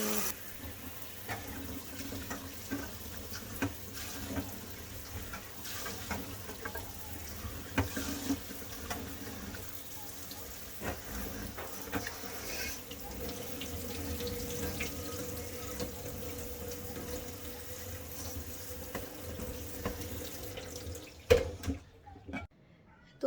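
Cut taro root is rinsed under a running kitchen tap, water splashing steadily and close up for about twenty seconds before the flow stops near the end.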